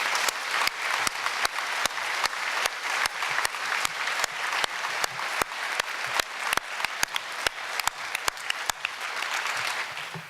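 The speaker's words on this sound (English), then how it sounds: "Please give them one more round of applause" An audience at a breakfast speaker event gives sustained applause, a loud, steady wash of many hands clapping, with sharp individual claps standing out close by.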